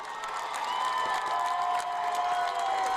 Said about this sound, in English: See them standing up there cheering on their squad